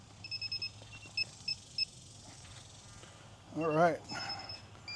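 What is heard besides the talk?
FPV drone beeping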